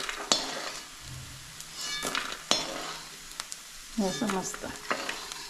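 Fried edible gum (dink) stirred and scooped out of a pan, giving a soft sizzle with scraping and light clinks of a spoon against metal, moderately close, with a brief voice speaking over it.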